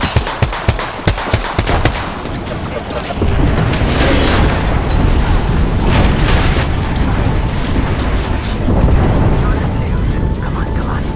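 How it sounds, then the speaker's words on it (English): Airstrike explosions in a shooter video game, a run of sharp booms and gunfire bursts early on, then a heavy, continuous roar of blasts and rumble that stays loud and close to the end, with a voice talking over it. "Airstrike."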